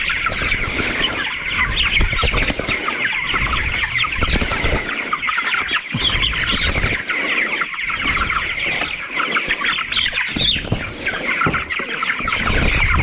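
Large broiler chickens, carried two at a time, cluck and squawk in a dense, continuous flock chorus close by, with no talk over it.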